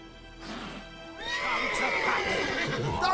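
A horse in The Witcher 3 lets out a loud, drawn-out whinny that rises and wavers over a low game ambience, close and clear, with faint hoof sounds beneath.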